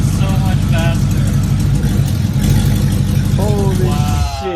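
Mercedes E55 AMG with a six-speed manual swap, its engine droning loud and close while revving in neutral, with excited voices talking over it.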